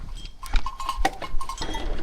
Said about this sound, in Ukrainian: Коровки.